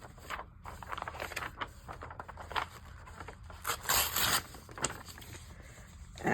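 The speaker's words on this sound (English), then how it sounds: "So I think I'm going to cut this out." Scissors cut a page out of a magazine close to the microphone, an irregular run of crisp snips, rustles and paper scrapes with brief louder crackles, no speech.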